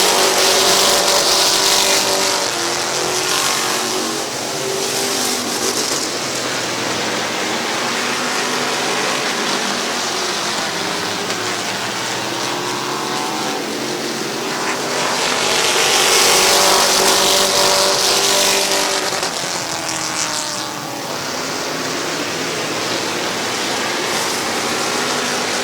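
A pack of race cars roars around the oval at Midvale Speedway, loud and continuous, with engine noise swelling and fading as the cars pass through the turns. No voices come through the din.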